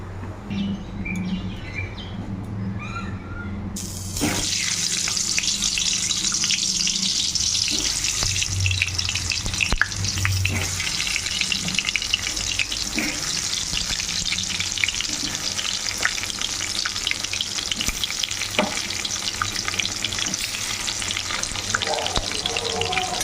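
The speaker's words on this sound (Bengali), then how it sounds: "কড়াই চাপিয়ে তার মধ্যে আমি সর্ষের তেল গরম করতে দিয়ে দিয়েছি। এবার একে একে আলুগুলো ভেজে নেব।" Potatoes fry in hot mustard oil in a wok, a loud continuous sizzle that jumps up sharply a few seconds in as the pieces go in, with occasional stirring scrapes and clinks and no talk.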